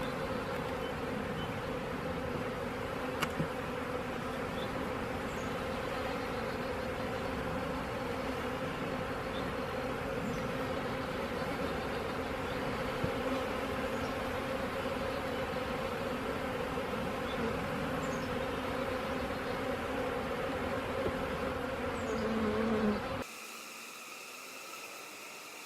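A dense swarm of honeybees drones steadily and loudly throughout as a nuc is installed into a new hive, a continuous close buzzing that cuts away near the end.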